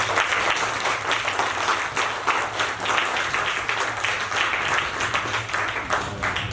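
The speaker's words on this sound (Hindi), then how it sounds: "इन तमाम अदाकारों की हौसला अफजाई करिए अपनी भरपूर तालियों के साथ" Loud, sustained applause from a theatre audience after a stage play, many hands clapping together in a thick, continuous roar with a low hum underneath.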